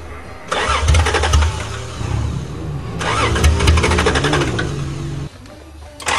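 A 1982 Toyota Cressida engine cranks with a rapid whirring starter, catches, and runs loudly up close, with a second cranking burst and a brief drop in sound near the end.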